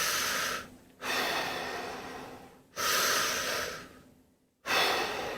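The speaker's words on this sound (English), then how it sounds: "Let's go 2 more breaths." Deep breathing during a movement routine: three long, loud, close breaths with airy inhales and exhales, separated by short silent pauses, with no talk.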